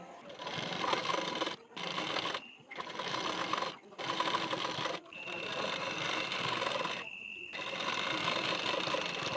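A sewing machine stitches a blouse in bursts of rapid, buzzing motor noise close by, broken by short pauses between runs, with longer stretches toward the end.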